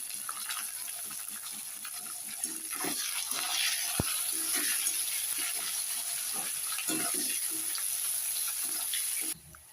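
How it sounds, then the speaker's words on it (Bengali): Chopped onion and slit green chillies frying in a pan, a steady hiss of sizzling oil with bursts of crackle, close and moderate in level, one sharp tap near the middle and an abrupt stop at the end. "এর মধ্যে আমি এখন পেঁয়াজ কুচি আর দুটো কাঁচা লঙ্কা চিরা দিই।"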